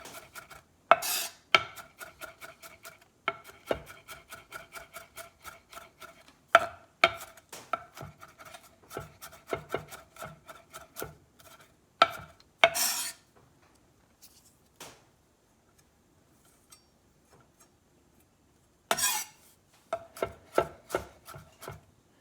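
A knife mincing garlic on a cutting board, quick runs of crisp close chopping taps in bursts with short pauses and a few louder knocks, quiet room, no speech.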